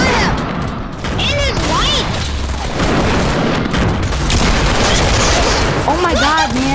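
Gunfire in a multiplayer shooter video game: a dense barrage of booming shots and bursts mixed with other game effects, with excited voices talking over the action throughout.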